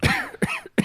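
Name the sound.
person imitating an old man's cough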